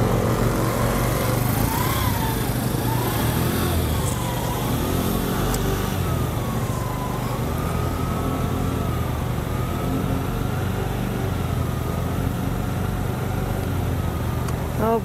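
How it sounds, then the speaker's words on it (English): A vintage scooter engine on a test run runs loud and close for the whole stretch, its pitch climbing and dipping as the throttle is eased open and backed off. "Ease it down and give it a little throttle."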